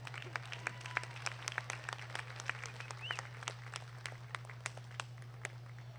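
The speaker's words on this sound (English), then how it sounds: "Let's go ahead and give them a big round of applause." A sparse audience at a market goat showmanship event claps faintly and from a distance, with scattered individual claps over a steady low electrical hum.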